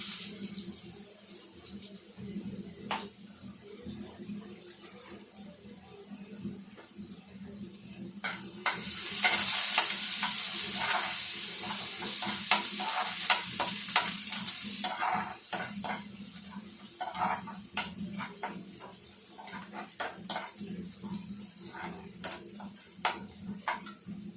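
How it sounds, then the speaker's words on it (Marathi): Ginger and garlic go into hot oil for a potato bhaji, giving a close sizzle that swells into a loud burst of frying midway, then settles with crackles and spoon clinks. "इथे तेल तापाला ठेवलेलं आहे मी आता मी ह्याच्यामध्ये आलं लसूण टाकणार आहे"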